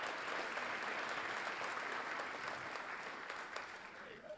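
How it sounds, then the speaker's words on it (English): Sustained audience applause at a public safety awards ceremony, a dense, steady wash of many hands clapping that holds for several seconds and eases slightly toward the end, with no voices over it. "So how about another round of applause to all of our award recipients?"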